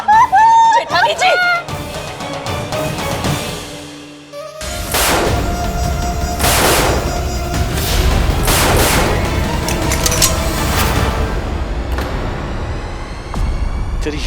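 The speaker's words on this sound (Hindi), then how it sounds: "तेरी हिम्मत कैसे हुई मेरी कहना पे गोली चलाने की" Gunfire in a Hindi TV drama: after an opening stretch of loud dialogue and music, a burst of booming gunshots crashes in and echoes through a dense, noisy scene.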